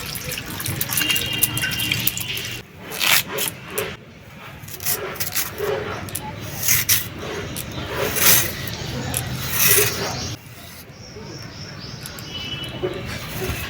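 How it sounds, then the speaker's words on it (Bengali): Whole kohlrabi is rinsed under water before cutting, with uneven splashing and trickling close by, intermittent scrubbing bursts and background insect chirping, and no talk. "কপি গোটায় ধুয়ে নিয়ে তারপরে কাটবো নাহলে ওলকপির স্বাদ চলে যাবে"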